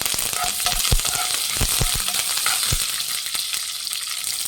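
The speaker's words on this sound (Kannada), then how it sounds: "ಚೆನ್ನಾಗಿ ಫ್ರೈ ಆಗಿದೆ ಕರ್ಬೇವಿನ ಸೊಪ್ಪು ಹಾಕೊಳ್ಳೋಣ" Curry leaves crackle and sizzle in hot oil for capsicum chitranna, a dense continuous frying hiss with several sharp pops and spatula taps near the start, close up and with no voices.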